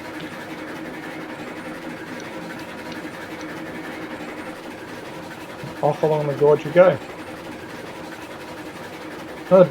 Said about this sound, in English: I'm going to reduce the volume of the engine because she's going to run noisy